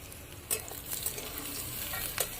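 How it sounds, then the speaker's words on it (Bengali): Slit chillies fry in a pan with a faint, steady sizzle, broken by a few sharp spatula taps and scrapes, quiet and close. "লাল লাল করে ভেজে নেব চিড়ে রাখা লঙ্কাগুলো দিয়ে দেবো এবার"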